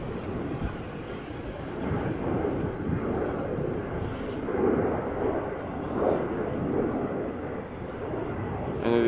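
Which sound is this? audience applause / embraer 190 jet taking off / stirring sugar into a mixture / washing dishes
embraer 190 jet taking off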